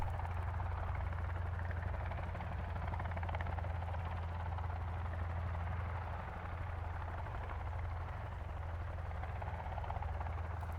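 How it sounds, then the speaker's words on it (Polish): A helicopter in the survival video game Sons of the Forest drones with a steady, heavy rotor thrum, continuous and fairly loud, holding constant with no speech over it. "Helikopter!"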